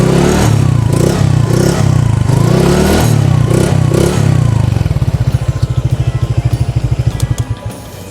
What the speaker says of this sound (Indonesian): Knalpotnya, sebenarnya ini knalpotnya ori, tapi udah pakai yang dibobok gitu, lehernya udah beda.